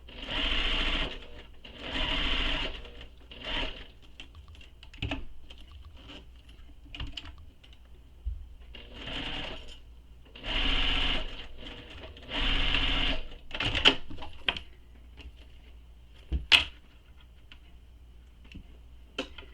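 Short bursts of a sewing machine stitching a zipper pocket on a bag, several runs of a second or two with quiet pauses between them, plus light clicks and handling noises.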